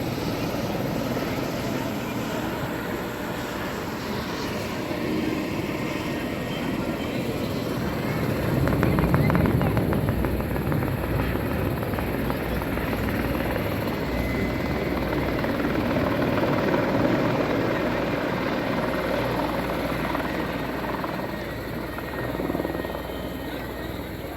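Steady, loud rotor drone of a helicopter, continuous throughout and swelling slightly at times, with a broad rumbling wash and no voices.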